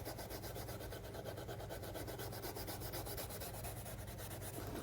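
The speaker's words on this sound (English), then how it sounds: "after I do the sandpaper, I do some steel wool" Hyer boot leather being rubbed by hand with ultra fine triple or quadruple zero steel wool: a steady, close, continuous scratchy scrubbing that holds an even rhythm throughout, with no talking.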